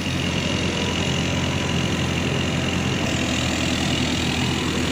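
Komatsu SK200-8 excavator diesel engine running steadily at half throttle after a turbo and exhaust packing repair, a loud, even mechanical roar with no dips, close up and alone.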